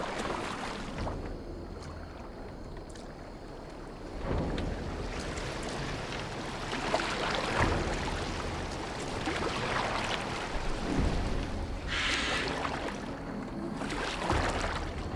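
A boat moves across open water in Assassin's Creed Valhalla, with a continuous wash of water and wind and soft splashing. The sound stays moderate and steady throughout, with no talking.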